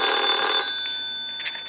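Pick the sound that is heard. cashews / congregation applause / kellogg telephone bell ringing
kellogg telephone bell ringing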